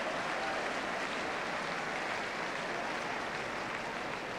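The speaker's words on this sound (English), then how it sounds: "Applause for both the pass and the attempt to collect." Football stadium crowd during Ipswich Town versus Nottingham Forest, applauding a pass and shot attempt as a dense, continuous roar of clapping and crowd noise.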